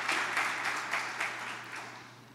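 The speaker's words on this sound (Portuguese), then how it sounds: "Dá um aplauso para ele," Light applause from a congregation during a church service sermon, a soft wash of clapping that slowly fades over a couple of seconds.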